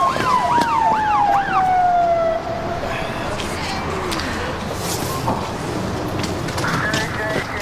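An ambulance siren wails loud and close, its rising and falling tone sweeping through the first couple of seconds, then trails off into a long fading pitch with street noise underneath.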